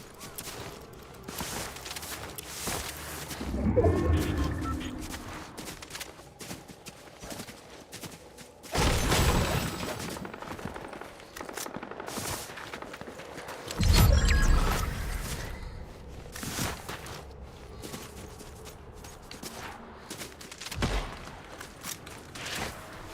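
Gunfire in a video game comes in several bursts of muffled, rapid shots spread across a long stretch, mixed with game noise and occasional heavier impacts.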